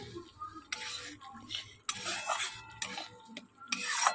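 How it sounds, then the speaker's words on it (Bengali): Red spice masala being stirred and fried in a pan, with several bursts of close scraping and clattering from a spoon against metal over a low sizzle. "মশলা কিন্তু কষানো বসিয়ে দিয়েছি, ভালো মতো করেই কষাচ্ছি, বেশ লাল লাল করে।"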